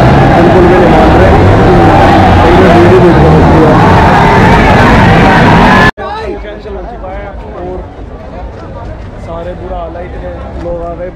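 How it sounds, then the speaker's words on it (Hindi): A dense, loud crowd of fans roars and chatters outside a packed Delhi meetup, a constant wall of voices that cuts abruptly to quieter, closer murmuring and nearby talking. "पूरी भीड़ अभी तक भी है बाहर"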